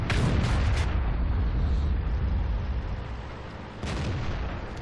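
The SU-152 tank's huge derp gun fires in World of Tanks on the Cliff map, a loud booming blast at the start followed by rumbling echo, then a second heavy shot near the end.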